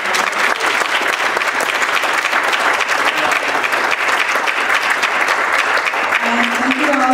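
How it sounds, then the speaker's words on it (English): Audience applause for a guest at a school speaker series, a steady, dense roar of many hands clapping that holds at full strength throughout, with a faint voice surfacing near the end. "can we give a round of applause for Matthew"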